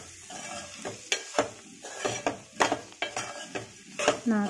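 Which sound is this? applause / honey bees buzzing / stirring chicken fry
stirring chicken fry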